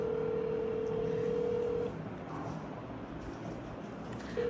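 A phone call being dialed: a faint steady telephone tone holds for about two seconds, stops, and returns briefly at the end over quiet room noise.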